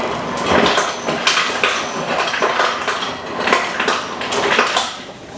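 Pot and ice being handled in a kitchen while cooking chicken Thai pasta salad, with repeated clinks and clattering of cookware and ice, fairly close and steady throughout.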